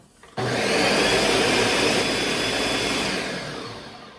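A blender mixing banana bread ingredients starts abruptly and runs with a loud, steady whirring roar, then gradually eases off toward the end.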